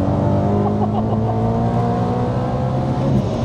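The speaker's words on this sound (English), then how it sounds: "towards the end you can sometimes hear the supercharger going" Supercharged E92 BMW M3 with a manual gearbox, tuned to about 680 bhp, droning loudly and steadily under load, with a faint supercharger whine riding over the engine note.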